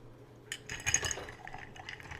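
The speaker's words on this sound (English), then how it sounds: "give it a stir" Ice clinking and rattling in a mixing glass as a Sazerac cocktail is stirred, a brief soft burst of glassy tinkles that fades into lighter scattered clicks, fairly close and quiet.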